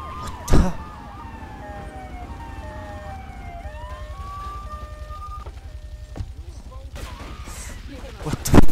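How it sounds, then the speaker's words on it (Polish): Ambulance siren in the GTA III video game, a wailing tone sweeping up and down at moderate distance over engine and street noise, broken by a couple of sharp bangs near the start and end. "A to karetka jednak."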